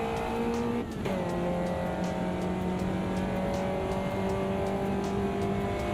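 Race car in the Automobilista 2 sim game roaring at high revs, with a quick gear shift dip near the start before the engine climbs steadily again, loud and continuous with no talking.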